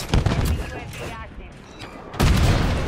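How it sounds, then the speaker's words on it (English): Bursts of gunfire from Call of Duty MW3 multiplayer, dominated by booming shotgun blasts, fill the start and end of the clip, with chaotic in-game effects and a quieter stretch between the volleys. "Shotguns are ridiculous in this game, bro."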